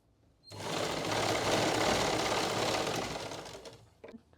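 An electric sewing machine stitches a salwar waistband in one close, steady burst of rapid mechanical whirring lasting about three seconds before stopping.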